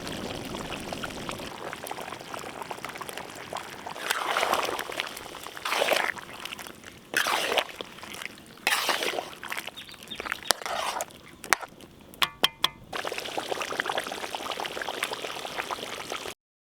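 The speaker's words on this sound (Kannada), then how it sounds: "ಇವಾಗ ರುಬ್ಕೊ ಬಂದಿರೋ ಟೊಮೊಟೊ ಹಣ್ಣು ಹಾಕೊಬಿಡೋಣ." Ground tomato paste poured into a pan of turkey meat frying in oil for Savaji-style turkey mutton, a wet pouring and glugging sound in several surges, followed by clinks of utensils against the pan.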